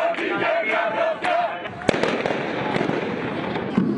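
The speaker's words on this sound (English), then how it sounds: "and now chants are getting louder" A dense protest crowd outside the Greek Parliament in Athens, with voices chanting and shouting loudly together while sharp bangs from fireworks or firecrackers go off at close range through the noise.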